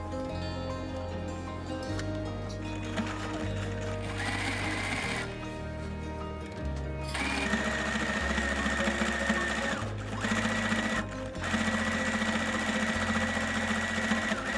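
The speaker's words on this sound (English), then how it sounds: "So I am sewing" A domestic sewing machine runs in steady bursts with brief pauses as it stitches along the folded edges of a reversible fabric table mat with a contrasting border. The whirring is close and fairly quiet, with no talk.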